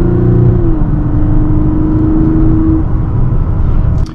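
A 2024 Mazda CX-90 SUV in sport mode accelerates at full throttle: a loud, close engine drone climbs in pitch early on, then holds a steady pull before easing near the end.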